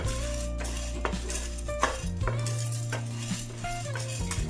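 Chana dal is dry roasted in a pan and stirred, giving repeated metallic scrapes and clinks of a utensil against the pan with rattling lentils between them.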